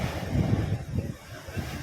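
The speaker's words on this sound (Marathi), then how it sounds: "समुद्र पूर्ण खवाळलेला आहे" Rough monsoon sea surf churns and roars close by at Hedvi beach in Konkan, mixed with gusty wind buffeting the microphone.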